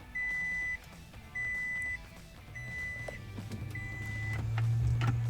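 A 2nd-generation 2009 Toyota Prius is switched back on, giving four evenly spaced electronic dashboard beeps, followed by a low hum that swells toward the end.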